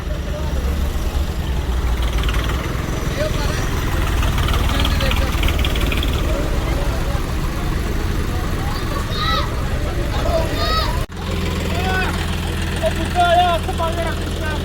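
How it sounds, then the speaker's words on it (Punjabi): A tractor engine idles steadily at a village religious procession, a continuous low rumble under people talking, with a brief drop partway through before the drone resumes. "ਟਰੈਕਟਰ ਆ ਗਿਆ ਬਾਈ"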